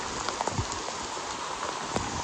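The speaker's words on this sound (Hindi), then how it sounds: "बहुत दूर से बारिश हो रहा है अभी" Rain falls at Haflong Lake during heavy northeast rainfall, a steady soft hiss of drops with scattered closer patters on nearby surfaces, continuous and moderately faint, with no voices.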